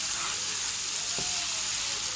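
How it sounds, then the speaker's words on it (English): Frozen green beans and sweet corn fry in a pan with a steady, close bright sizzle and hiss, a brief stir or clink partway through, no talking. "They are frozen veggies, so that is why I have to fry this first."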